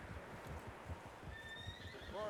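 Horses whinny and hooves clip-clop in a video game scene, a quiet layer of repeated hoof thuds with a rising neigh near the end, faint and without talk over it.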